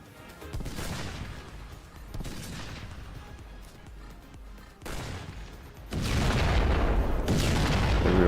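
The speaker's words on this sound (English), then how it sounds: "Oh god, yeah, we're getting hit by the big guns now." Heavy artillery pounds a fort in the physics-based strategy game Forts, with a dense barrage of booming cannon shots and impacts rolling in waves, swelling into a loud sustained volley near the end.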